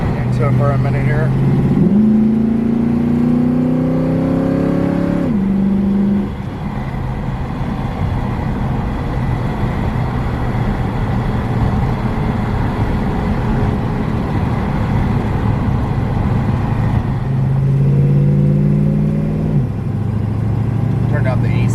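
A 1968 Mustang with a 302 engine drives with a steady low engine drone, and two clear revving climbs rise and fall near the start and again near the end.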